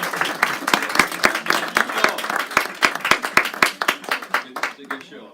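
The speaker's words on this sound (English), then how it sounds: "Let's give a big round of applause for Stuart Demi." Audience applause for a guest on a podcast stage show, loud close claps with distinct individual hand strikes in a quick uneven rhythm, fading out near the end, with a voice faintly underneath.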